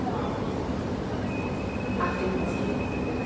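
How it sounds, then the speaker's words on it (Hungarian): A Bucharest metro train sits in a crowded station and begins pulling away, a steady rumble with a faint rising whine and a few clanks, voices of the crowd mixed in underneath. "Fölveszek még egy metróindulást"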